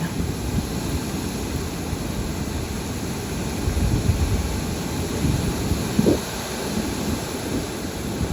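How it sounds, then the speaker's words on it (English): Hurricane-force storm at night, with wind roaring steadily in a dense broadband wash and rain pouring throughout, plus a brief louder gust or rumble near the end; no voices. "Oh my goodness, the storm is crazy."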